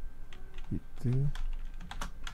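Keys clatter in short irregular bursts on a computer keyboard while editing e-book code, clicks scattered between a man's speech in Korean.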